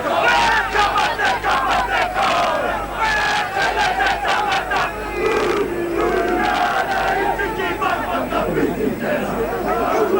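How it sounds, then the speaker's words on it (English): A New Zealand Kiwis rugby league side performs the traditional haka at a 1985 test against the Kangaroos, rhythmic shouted chanting ringing out over a loud stadium crowd, with commentary voices running underneath. "here's the traditional haka"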